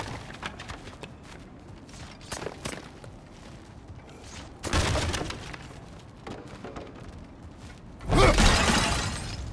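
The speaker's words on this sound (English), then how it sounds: "back to smashing through things for fun and profit" Objects being smashed and broken in God of War Ragnarok, with loud crashing, shattering bursts around the middle and a heavier one near the end, over quiet game ambience.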